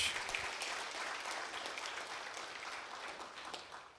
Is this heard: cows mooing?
no